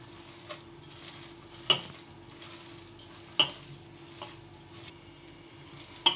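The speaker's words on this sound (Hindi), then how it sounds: "अब सारी दाल को और मसालों को इसके साथ अच्छी तरह से मिक्स कर लेते हैं।" Ground urad lentil paste being worked together with spices by hand for Himachali maah dal badi makes quiet, soft squishing, with a few sharper slaps and knocks at irregular intervals.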